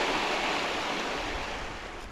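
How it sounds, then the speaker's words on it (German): A waterfall rushes loudly and close by, a constant, dense roar of falling water that holds steady throughout with no voices over it. "der Wasserfall."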